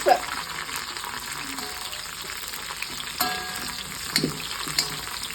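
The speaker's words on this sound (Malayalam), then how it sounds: "അപ്പോൾ നമ്മളത് ഫ്രൈ ആക്കി കോരിയൊക്കെ വെച്ച്" Food bubbles and sizzles steadily in hot oil in a home kitchen pan, a dense, close hiss throughout with occasional stirring clatter and brief knocks.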